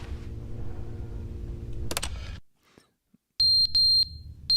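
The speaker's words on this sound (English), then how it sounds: "I don't like fire alarm sounds." Electronic fire alarm in The Stanley Parable video game: a steady low droning room tone, a brief burst, near silence, then loud repeated high-pitched alarm tones pulsing in quick succession.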